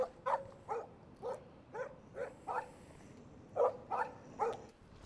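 A puppy in the video game Life is Strange Remastered barks repeatedly outdoors near an RV, giving about nine sharp, evenly spaced yaps that are fairly close, with no talking.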